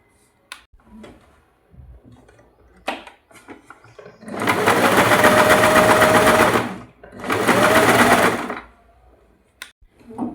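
A sewing machine stitching a fall onto a saree runs in two steady whirring bursts, loud and close, with small clicks and fabric handling between runs and before them.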